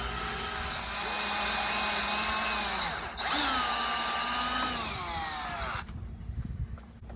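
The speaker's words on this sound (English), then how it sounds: "Now to drill this hole and join the two." A power drill whines steadily for about six seconds while drilling into a wooden stool for a cross dowel and bolt, with a brief dip midway, then stops, leaving faint rustling and handling noise.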